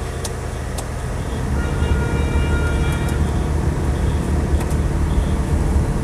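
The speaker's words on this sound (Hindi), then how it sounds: "स्टार्ट होने के बाद अब एसी को ऑन करते हैं।" A Maruti Wagon R idles with its air conditioner switched on, giving a steady, close engine hum with a low rumble that holds even throughout and has no speech over it.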